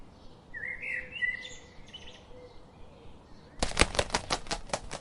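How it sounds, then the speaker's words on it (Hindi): Birds chirp in a forest, with faint tweeting calls at a distance, followed by a louder, rapid run of sharp clicking chirps close by near the end. "चिड़ियों की चहचहाहट पूरे जंगल में गूंज रही थी।"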